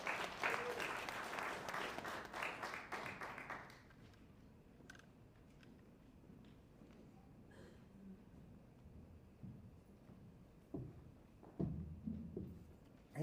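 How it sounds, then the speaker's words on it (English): An audience at a campaign stop in Great Falls claps vigorously for a few seconds, then the applause dies away into a quiet room with scattered small knocks and rustles. "So I know you can do much more in robust clapping."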